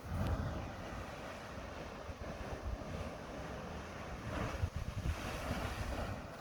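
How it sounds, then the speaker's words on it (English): Ocean waves surge and wash in the distance on Portugal's Algarve coast, mixed with gusty wind buffeting the microphone. "Can hear the waves"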